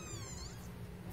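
A cat gives a single short, faint meow at the start, which trails off into quiet room noise.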